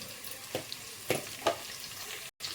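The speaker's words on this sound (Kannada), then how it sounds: "ಈಗ ಇದಕ್ಕೆ ಸ್ವಲ್ಪ ಫ್ರೆಶ್ ಆಗಿರೋ ಬೇವಿನ ಸೊಪ್ಪು ಹಾಕೋಣ" A constant sizzle of fresh curry leaves frying in hot tempering oil, broken by a few sharp crackling pops and brief stirring sounds, close by.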